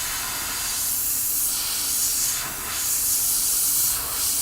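Spray paint hissing onto a She-Hulk bust, a steady close spray with slight swells in intensity and no talk.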